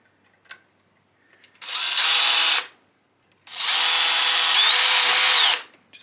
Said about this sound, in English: And we can also drill out this one here now.